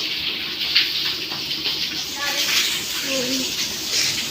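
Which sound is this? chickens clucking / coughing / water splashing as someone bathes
water splashing as someone bathes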